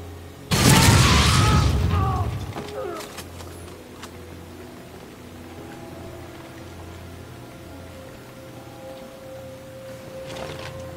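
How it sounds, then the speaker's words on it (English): A loud, sudden blast from an exploding barrel in the sci-fi shooter Deep Black Reloaded, booming then decaying over about two seconds, followed by quieter mechanical hum, faint tones and a small pop near the end. "There's a lot of exploding barrels and energy cores lying around."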